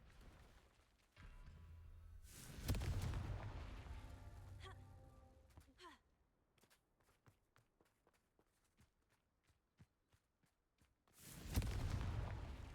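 Confringo spell blasts in the video game Hogwarts Legacy, two loud, booming explosions with rumbling tails separated by a quieter stretch of rapid footsteps, no speech over them.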